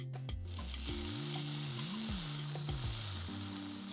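A tortilla frying in a hot pan for birria tacos makes a loud, steady close sizzle that holds throughout, with faint low mechanical tones underneath and no talk.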